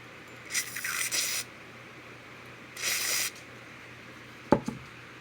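Two short bursts of WD-40 aerosol spray hissing close by, each about a second long, followed by a sharp metallic click or tap.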